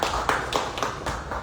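Audience clapping at a CRDB Bank event honoring the CRDB Bank Foundation, a steady wash of many hands with a few louder bursts of claps rising above the crowd.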